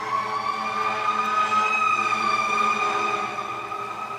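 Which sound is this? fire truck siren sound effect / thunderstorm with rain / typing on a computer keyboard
fire truck siren sound effect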